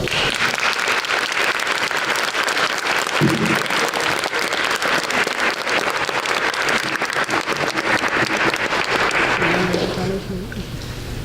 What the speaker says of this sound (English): Please join me in a round of applause as we welcome Malika Whitley and Tina Fernandez to the stage